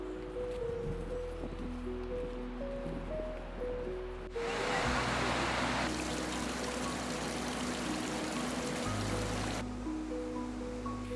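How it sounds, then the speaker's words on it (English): Water in an old levada irrigation channel on Madeira rushes and gurgles steadily in a continuous broadband wash that grows louder partway through, under a steady low hum. "walk along the Nevada, that is an old irrigated water channel, built to carry mountain water to farms and villages"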